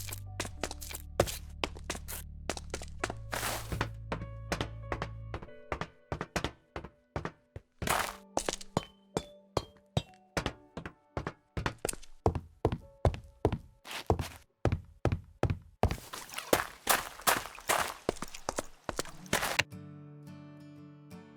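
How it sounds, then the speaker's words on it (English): Footsteps in Minecraft cross grass, stone and wood, a long run of crisp, evenly spaced steps whose tone shifts between surfaces, close and clear, with no voices. "every step, whether on grass, stone or wood, has a distinct sound"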